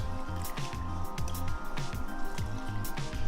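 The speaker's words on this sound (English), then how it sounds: "just using my hands, or hand, I'm just going to rub the grains through my fingers" Rice grains rubbed by hand in cold water, wet rhythmic squishing and sloshing repeating in quick strokes, close and fairly loud, with no talk.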